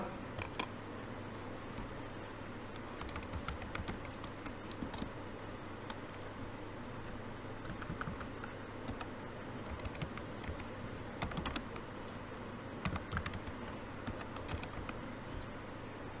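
Typing a domain name on a computer keyboard while configuring a DNS server in Cisco Packet Tracer, with quiet irregular bursts of close key clicks over a low steady hum, no talking.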